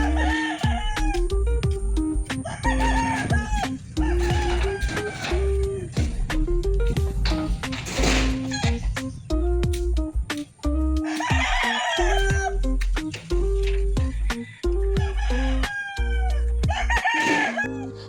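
Backyard flock of chickens with a rooster, repeated crowing calls rising over steady clucking and cackling, close and loud, several crows spread through the stretch.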